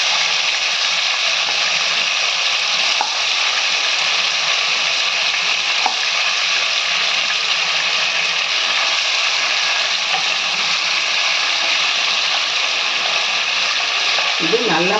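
Chicken leg pieces fry in a pan for a gravy, giving a steady, loud, continuous sizzle that holds without letup, with faint occasional clicks over it.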